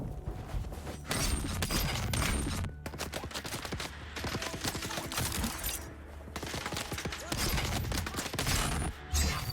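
Gunfire from a player's weapons in the game Dune Awakening, dense and continuous across most of the stretch, with a few short pauses between rapid bursts, loud and close with clattering mechanical layers mixed in.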